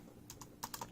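Keystrokes on an Anker Bluetooth scissor-switch keyboard: five or six crisp, light clicks in a short uneven burst, close and fairly quiet, with no rattle.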